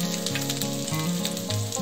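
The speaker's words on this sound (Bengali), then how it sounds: "এবার আমি কড়াইয়ে গরম তেলেই দিয়ে দিচ্ছি 1-1 1 টিস্পুন রসুন কুচি" Minced garlic sizzling in hot oil in a wok, a dense, steady crackling fry that stays loud and even throughout with no talking.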